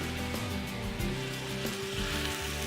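Porterhouse steak sizzling as it goes back into a creamy wild mushroom sauce with garlic and parsley, a steady close crackle and hiss with soft stirring bumps throughout.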